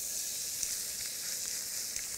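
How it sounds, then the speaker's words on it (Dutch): Steady, close sizzling of cod searing in a hot frying pan, a continuous bright hiss with faint pops and no talking. "En dan schroei je mooi dicht."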